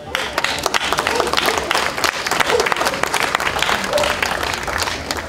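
A festival concert audience breaks into loud, dense applause to welcome an announced performer, the steady clapping carrying scattered voices and cheers beneath it.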